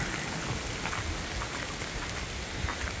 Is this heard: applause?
no